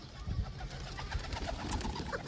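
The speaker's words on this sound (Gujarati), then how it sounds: "તો ફ્રેન્ડ તમે જોઈ શકો છો કે આપણા કબૂતર બધા દાણા પાણી હવે કરી રહ્યા છે." Pigeons cooing near a loft as they feed on grain, soft repeated throaty coos close by with light rustling in the background.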